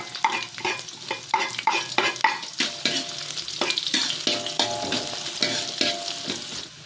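Sliced shallots frying in hot oil in a pan, crackling sizzle broken by a steady run of scraping stirs from a spatula, close and fairly loud, with no voices.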